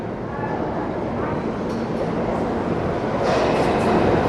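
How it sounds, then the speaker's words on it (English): A New York City subway train arrives at a station, rumbling steadily on the tracks, a loud, continuous roar that grows slightly toward the end, with faint voices mixed into the din. "You can hear it. Here comes our train."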